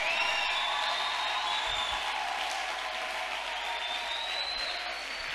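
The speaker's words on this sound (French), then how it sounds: "Que celui qui aime Dieu acclame pour sa présence" A church congregation applauds and cheers at a worship service, a dense, sustained wash of clapping with high shouts and whoops rising over it, loud and continuous from start to end.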